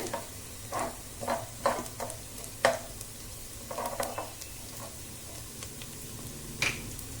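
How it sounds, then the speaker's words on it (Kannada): Mustard seeds spluttering in hot oil: scattered sharp pops and crackles over a faint sizzle, irregular bursts with quiet gaps between. "ಸಾಸಿವೆ ಸೇರಿಸ್ತಾ ಇದ್ದೀನಿ. ಸಿಡಿಲಿ ಅದು."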